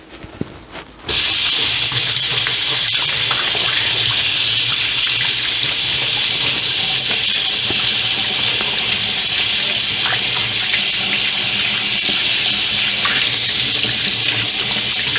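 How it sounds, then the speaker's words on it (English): Steady tap water runs loudly into a sink for a hand wash in a home kitchen while baking Irish soda bread, starting abruptly after a second of quiet and continuing unbroken, close and alone. "let me wash off my hands."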